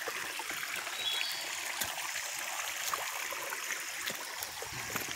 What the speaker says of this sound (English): I love the water running.